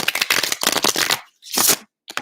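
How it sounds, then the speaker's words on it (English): A new, stiff tarot deck is shuffled in several loud, close riffling bursts, each a crisp papery rush, separated by short pauses of silence. "Sorry if my shuffling is a bit out of control right now. It's because this is a new deck and it's still a little stiff."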